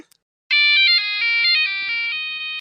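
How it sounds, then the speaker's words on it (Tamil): A mobile phone ringtone bursts in after a brief silence, a loud, bright electronic melody of shifting stepped notes that plays on clearly with nothing else heard. "இப்போ யாரு ஃபோன் அடிக்கா"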